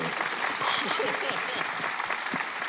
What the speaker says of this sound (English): And while you're at it, applaud the production design,